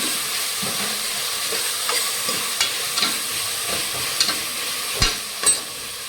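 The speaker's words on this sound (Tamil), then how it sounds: "தக்காளி வெங்காயம் நல்லா வதங்கிட்டு இருக்குது" Tomatoes and onions sauté in a pan for a soy tomato biryani, with a steady close sizzle and occasional stirring scrapes and knocks that grow louder toward the end.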